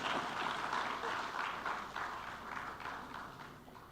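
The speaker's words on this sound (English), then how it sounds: "Another round of applause." Audience applause at a peace and security forum plenary session, a dense, steady wash of many clapping hands heard from a distance, gradually fading toward the end.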